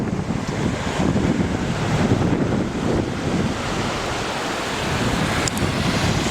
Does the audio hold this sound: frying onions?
no